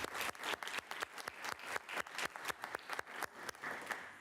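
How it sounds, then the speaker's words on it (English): A round of applause fills a town board meeting room in Babylon, many hands clapping densely and steadily at moderate distance, continuing without a break before tapering slightly at the end. "that deserves a round of applause"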